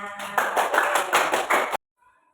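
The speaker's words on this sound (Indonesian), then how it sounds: "tepuk tangan semuanya" A classroom group claps hands together in a quick, even burst of about six or seven unison claps, close and loud, then stops abruptly into silence.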